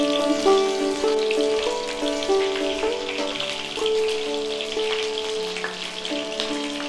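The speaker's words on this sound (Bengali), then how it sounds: "বসিয়ে দিন তেলে একে একে।" Banana flower paturi parcels frying in hot mustard oil, a dense, continuous crackling sizzle with a faint tonal hum running steadily underneath throughout.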